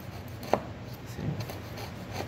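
A knife peels the skin off a whole nutmeg: one sharp, brief scrape, then faint, soft rubbing and scratching, close and quiet, with no talking.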